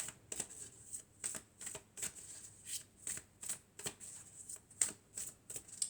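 Oracle deck cards shuffled by hand in a steady run of crisp riffling bursts, about ten in six seconds, close and quiet with no voices.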